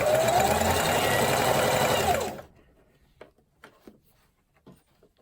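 A sewing machine stitches a fabric face mask in a fast, steady whir for about two seconds, then stops abruptly, leaving faint clicks and small handling noises.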